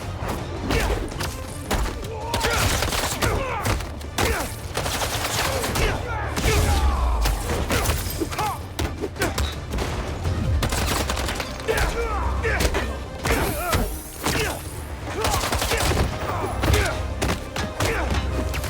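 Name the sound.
fireworks going off in Spider-Man 2 video game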